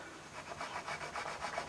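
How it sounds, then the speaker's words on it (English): A woodwind reed is rubbed back and forth over a curved sanding table, giving a soft, steady, rhythmic scraping of repeated strokes, faint and close with no talking. "and sand away as normal"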